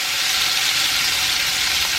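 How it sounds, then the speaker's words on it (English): A beef patty fries over medium heat in vegetable oil in a pan, giving off a steady, dense, close sizzle with no talking. "we're just going to lightly put in our patty"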